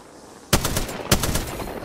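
Two loud sniper rifle shots in the battle royale shooter Apex Legends, sharp close cracks about half a second apart, each trailing into a brief rumbling echo.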